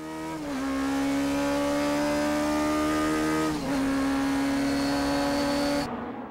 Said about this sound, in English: Full potential of the 9800 RPM rev limit 4AG unit is used, even shifting gears during cornering.